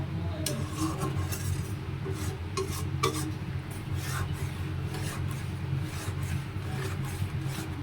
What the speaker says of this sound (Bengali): এটা আরও আমার কষাতে হবে আর একটু কষালেই এটা ভালো লাগবে কষাচ্ছি